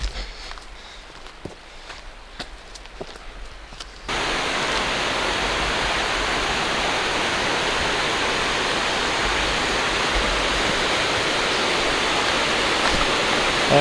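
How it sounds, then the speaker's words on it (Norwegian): Steady, loud broadband roar of a river rushing past a dam in the Nordmarka forest near Oslo in summer, close and continuous after a quieter stretch of footsteps and ambience at the start. "Så hører jeg elva allerede."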